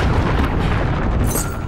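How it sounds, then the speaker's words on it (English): Cruise missile blast in Call of Duty: Modern Warfare, a loud, dense rumbling boom that rolls steadily through the short moment with no voices. "Allied cruise missile away."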